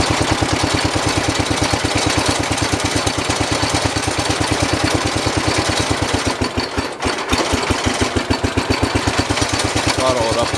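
Engine of a 1967 112 round fender tractor with the stator unplugged, running with a loud, rapid, steady pulsing chug close by, briefly stumbling midway before picking back up.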